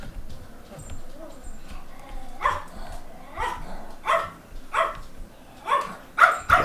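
A dog barks about six times in a loose rhythm, the barks growing louder and sharper toward the end over a quiet room background.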